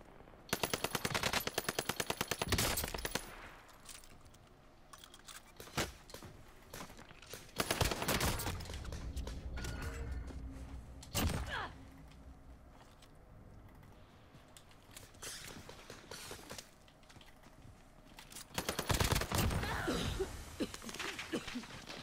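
An Owen submachine gun rattles off repeated loud bursts in Warzone, with a long opening volley followed by scattered shorter strings of rapid fire and brief lulls between them.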